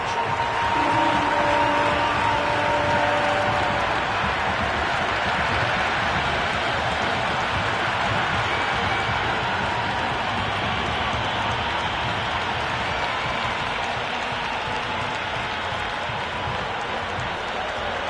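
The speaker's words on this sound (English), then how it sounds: "The crowd are really getting quite raucous." Video-game cricket stadium crowd in Cricket 26 on PS5 during a T20 match between India and Zimbabwe, a sustained wash of distant cheering and applause that swells early then settles into a steady roar.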